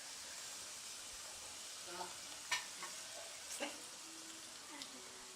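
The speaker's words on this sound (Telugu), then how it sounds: "ఇలా వేసిన తర్వాత గరిటెతో ఒకసారి కదుపుకుని వాటిని తిప్పుకోవాలి." Kajjikayalu fry quietly in hot oil with a soft, steady sizzle while a ladle stirs and turns them, making a few faint scrapes and clinks against the pan.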